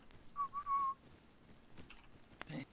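A person whistles a couple of short, faint tones after a lesson on how to whistle, followed by a light exhale and rustling noise.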